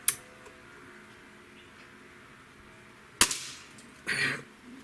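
Winchester 1250 Magnum Series rifle fired once during target shooting, a single sharp crack with a brief echo tail, followed by a short metallic clatter, against a quiet background.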